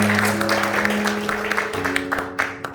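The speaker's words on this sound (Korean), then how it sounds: "박수로 환영하겠습니다" A church congregation applauds to welcome visiting guests, a dense steady patter of clapping that carries on for a few seconds and tapers slightly toward the end.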